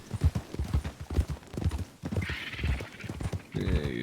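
A Turkoman horse in a Western video game clip-clops with steady, close hoofbeats that run throughout, ending in a loud whinny, while voices talk over the hooves.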